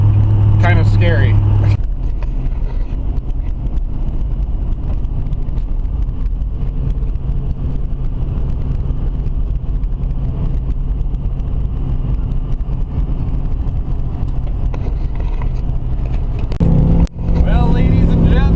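A car cruises along an empty highway in northern Canada on a road trip toward Alaska, its engine and tire roar loud and steady throughout with a sharp bump near the end.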